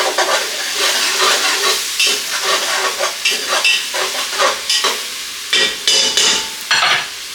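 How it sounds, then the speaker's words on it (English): Onions saute in a pan with a steady, close sizzle, and a utensil stirs them in occasional scraping bursts, with no voices. "saute those onions."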